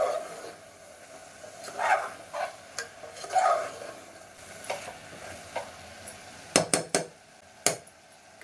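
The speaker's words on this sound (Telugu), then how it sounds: "1 స్పూన్ ధనియాల పొడి వేద్దాము. ఒకసారి బాగా కలుపుదాము." Mutton curry is stirred in a pot after chili powder and coriander powder go in, with soft scraping strokes and a faint sizzle, then a few sharp spoon clinks against the pan near the end.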